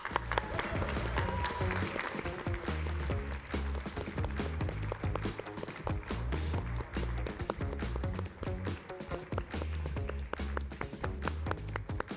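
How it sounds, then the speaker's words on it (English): Audience applause greets the founders of CureDuchenne taking the stage at the FUTURES 2026 event, a steady dense clapping from a large crowd that stays loud and continuous throughout. "Please give a round of applause."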